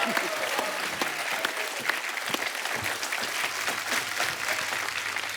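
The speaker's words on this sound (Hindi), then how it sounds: "तालियां बजती रहनी चाहिए आपकी।" A studio audience on the Kapil Sharma Show, a TV comedy show, claps in sustained, dense applause, loud and close throughout, with faint voices mixed in.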